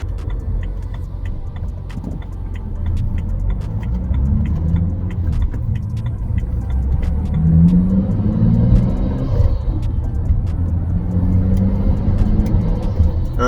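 A BMW N54 car engine, freshly rebuilt with new timing chains, idles nearby on its first start with a steady low rumble, briefly rising in pitch as it revs, no talking.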